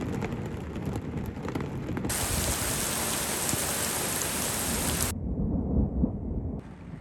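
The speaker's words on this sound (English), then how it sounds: "it's just a downpour of rain" Heavy rain pours steadily on a van with deep rumbling thunder underneath, loud and close, the downpour roaring continuously throughout, on a mountain in Andorra.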